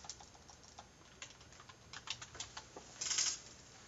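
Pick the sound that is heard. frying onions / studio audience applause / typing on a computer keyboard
typing on a computer keyboard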